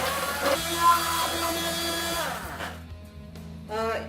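A hand blender pureeing tomatoes whirs steadily at a high pitch, then winds down and stops, followed by a brief burst of motor noise.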